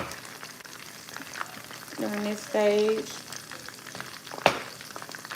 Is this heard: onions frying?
yes